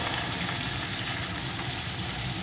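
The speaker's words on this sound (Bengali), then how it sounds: "এখন ডাঁটাটাও কিছুক্ষণ এই সবজির সাথে কষিয়ে নেব।" Red amaranth stems stir-frying with mixed vegetables, salt and turmeric in a pan, a steady dense sizzle and hiss that runs unbroken and evenly loud throughout, heard close up.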